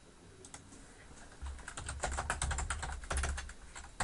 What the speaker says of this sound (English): I bet you I typed it wrong.